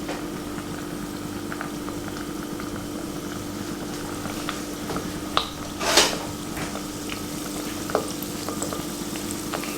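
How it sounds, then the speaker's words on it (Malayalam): Continuous bubbling hiss of gulkand-filled gulab jamun frying in hot oil over medium flame, close and steady, with occasional soft clicks and one brief louder splash. "ഞാൻ കുറച്ചിട്ടിട്ടാണ് വറുത്ത് ഫ്രൈ ചെയ്ത് എടുക്കുന്നത്"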